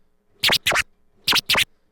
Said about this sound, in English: Now the scribble scratch essentially is just going to be 2 really fast baby scratches